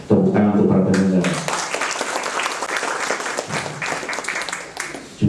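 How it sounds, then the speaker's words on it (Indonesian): Audience applause for the organizers at the close of an advocate training class, a burst of dense clapping that swells after a brief spoken start and carries on steadily before fading. "Tepuk tangan untuk para penyelenggara."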